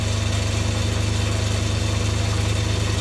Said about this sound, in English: as you can see, the lathe screw is still revolving